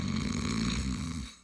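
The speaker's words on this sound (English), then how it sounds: "Snoring. It's not just something to laugh about." Heavy, rumbling snoring sounds in a sleep apnea advertisement, close and loud, as one continuous rattling breath that fades at the end.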